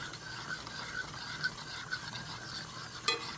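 A spoon stirs flour into deer stew on a Blackstone griddle, with a soft continuous scraping and faint sizzle and a few light clicks of the utensil against the cooktop.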